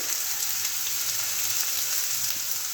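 Green chillies, whole cumin and coriander seeds fry in hot oil with a steady, dense sizzle and crackle, close and loud, unbroken throughout with no voices.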